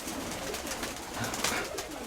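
Pigeons in an upper dovecote coo softly and repeatedly, low burbling calls overlapping against a constant background hiss, fairly close but not loud.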